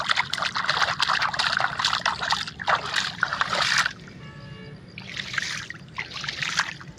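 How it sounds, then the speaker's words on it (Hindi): Water trickling and splashing through a small irrigation canal on a farm, a close, bright gurgling flow in uneven bursts with a brief quieter gap midway. "देख रहे हो उधर से आ रहा है पानी"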